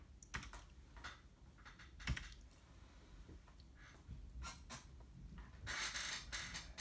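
Quick bursts of keystrokes on a computer keyboard while entering a spreadsheet formula, close and fairly quiet, with irregular clatter and a denser flurry of typing near the end.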